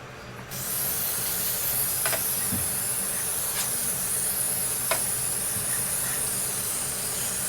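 Water sprays steadily to pre-rinse dirty John Deere Gator 4x2 parts before ultrasonic cleaning, a close, loud, continuous hiss with a few faint clicks and knocks in the background.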